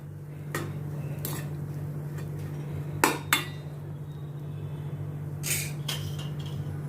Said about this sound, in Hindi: नमक डाल के अच्छी तरह से मैं मिक्स करती हूँ